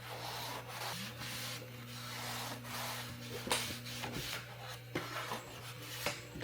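Repeated rubbing strokes as a cloth wipes the bed of a EufyMake 3D printer clean, soft scuffs close by over a steady machine hum, with no talking.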